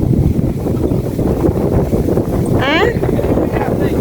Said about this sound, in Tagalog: sobrang hangin po